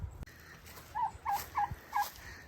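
Several turkeys gobble in a farm pen during market prep, four short rising calls spaced roughly evenly at moderate distance over a quiet outdoor background with a thump at the start.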